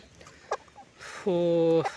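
A young rooster gives a short cluck, then a sustained, nasal call lasting about half a second, close by in a quiet setting.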